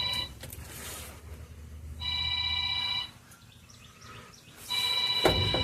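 A phone rings in a repeated electronic pattern in two separate bursts, fairly close, while someone works on the rear bumper of a 2002 GMC Sierra. Faint chirps and a sharp clank are also heard.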